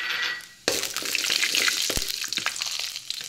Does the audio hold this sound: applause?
no